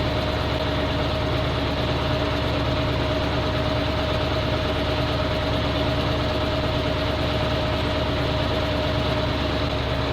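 A truck engine idles steadily and loudly at close range while its hydraulic crane manipulator is tested, a constant low droning rumble with vibration and no breaks.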